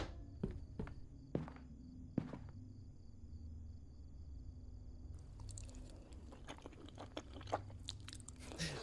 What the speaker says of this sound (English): I like the chewing noises that these game series have.